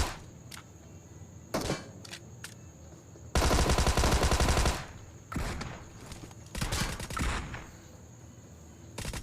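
A burst of rapid automatic gunfire from a mobile battle royale game rattles loudly for over a second, framed by a few sharp single shots and softer in-game footsteps and movement.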